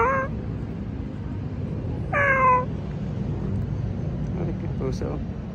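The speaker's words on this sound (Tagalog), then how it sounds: "May pusa po." A cat meows on a Manila side street lined with food stalls, two clear, loud, close calls a couple of seconds apart over a steady hum of traffic and city noise, followed by a fainter chirp.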